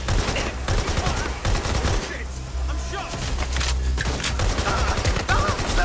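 Gunfire in Watch Dogs Legion, rapid bursts of shots in close succession with a brief lull midway, loud and near, with a voice speaking among the shots.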